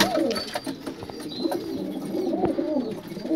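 Pigeons cooing close by, with repeated throaty rolling coos overlapping, amid faint background rustling.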